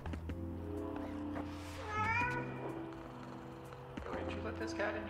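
A cat meows a couple of times with rising, drawn-out cries over a steady purr-like hum and other background sounds, fairly faint.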